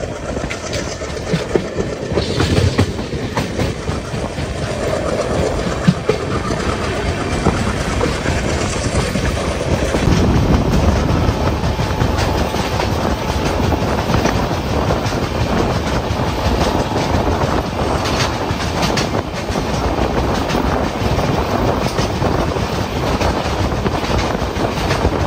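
Hisar-Kacheguda special express train running on rails past a small station, a loud steady rumble with rhythmic clickety-clack of wheels over joints heard from inside the moving coach.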